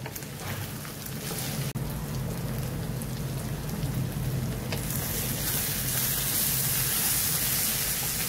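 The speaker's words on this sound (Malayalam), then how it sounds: "ഇനി ഇതിലേക്ക് സവാള ആഡ് ചെയ്ത് കൊടുക്കുകയാണ്." Sliced onions sauté in a hot pan for a Kerala-style duck mappas, giving a continuous, close, even sizzle that grows brighter near the end, with no talking.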